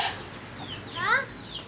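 Chickens sit near an avocado tree on a garden plot, giving a few short clucks and squawks over outdoor background noise, with one louder rising call near the middle.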